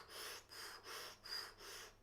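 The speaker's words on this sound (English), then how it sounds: "we're going to be breathing the bellows breath." Bellows breath, forceful rapid breathing through the nose, comes as about five quick, even huffs in a steady rhythm, close and breathy with no talking.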